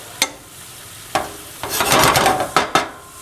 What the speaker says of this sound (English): Give this a good stir. We want to incorporate those spices onto all of the meat